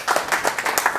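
A church congregation claps together in steady, rapid, continuous applause that fills the room.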